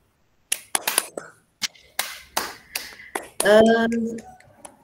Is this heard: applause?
yes